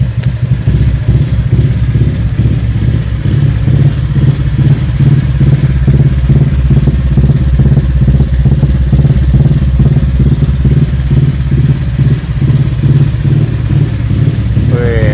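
A motorcycle engine idles loud and close with a steady, rhythmic low putter, running evenly throughout.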